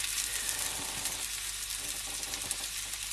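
Onions fry in a pan and build crispy edges, giving a steady bright sizzle with a few faint clicks and scrapes of stirring, no voices.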